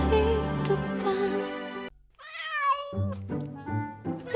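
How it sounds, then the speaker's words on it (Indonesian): A domestic cat meows several times in a row, loud and close, with drawn-out cries and a short pause partway through. "Sini lo, mau kemana lo kucing?"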